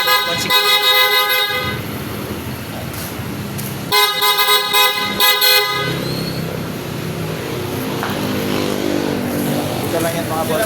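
A PIAA horn fitted to a Honda Click scooter blares in two loud, sustained honks a few seconds apart, then the scene falls to background noise.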